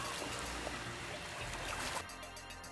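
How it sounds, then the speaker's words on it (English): Sea waves rolling onto a North Sea beach in mid-August, a steady, loud broadband wash that fills the whole stretch with no voices. "The waves."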